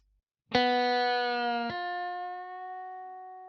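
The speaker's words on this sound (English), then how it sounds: "it is important to use quite a lot of delay and reverb" A single sustained distorted electric guitar chord rings out, a second strike adds to it, and the tone slowly decays with a washy, echoing tail.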